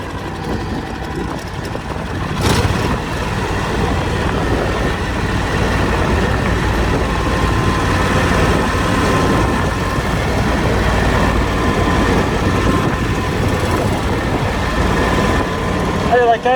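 A riding lawnmower engine runs steadily and loudly close by throughout, a continuous droning rumble with mechanical rattle, used outdoors pushing through brush and burdocks.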